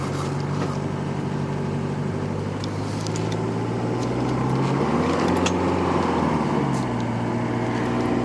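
A 1981 Mercedes-Benz W123 240D diesel car drives with a steady engine drone under road noise from inside the cabin, the pitch falling and rising again as it shifts gears.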